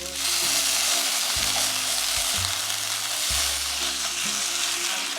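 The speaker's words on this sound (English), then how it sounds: "now we're going to make sure all of the chorizo is cooked well" Mexican chorizo, squeezed from its casing, sizzles and fries steadily in a pan, with occasional stirring scrapes over a constant crackle.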